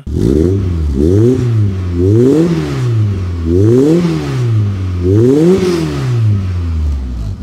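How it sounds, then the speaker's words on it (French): Golf 2 GTI 16v engine, Wolfsburg Edition, revved in short bursts while stationary, with four rising and falling surges that sound close, loud and clear, carrying a slight mechanical rattle. "Allez, mets-nous quelques coups de Gaz."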